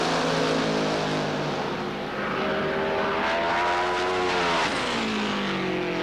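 Top Fuel dragsters at the 1976 NHRA Gatornationals in Gainesville make a loud, continuous engine roar with rising and falling pitch sweeps, close and sustained with no talk.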